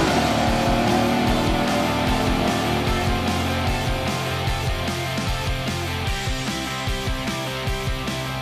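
A Ford Mustang GT on a dyno at a Barrett-Jackson auction, with the engine droning steadily and revving in rising and falling pulls, loud and close, amid a busy crowd with no talk in the clip.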